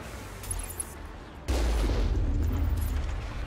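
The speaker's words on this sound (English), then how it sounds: "even the standard machine gun here knocks people down" Gunfire and explosions from the video game Mass Effect: a muffled burst of shots, then from mid-clip a loud, sustained rumbling barrage with rapid firing and heavy booms continuing to the end, no talking.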